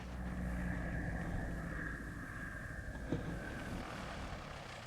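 Propeller-driven bush plane engine droning at a distance, a steady faint hum with a sustained whine and a brief knock partway through, no voices.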